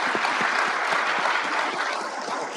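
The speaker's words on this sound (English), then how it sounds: "Let's give him applause." A sports law symposium audience gives a steady, dense round of applause that holds loud and even for a few seconds before easing off slightly at the end.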